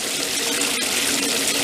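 Running water rinses out an Igloo cooler, a steady loud gushing rush from a hose or tap that carries on unbroken, alone with no talk.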